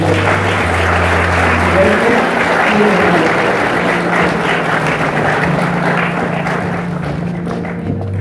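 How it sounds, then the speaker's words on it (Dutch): Audience applause at a certificate ceremony of the Apollos Institute, a steady dense clapping that fills the room for the whole stretch, with faint voices underneath and a sustained low tone running beneath the claps. "mag dat daar een applaus voor"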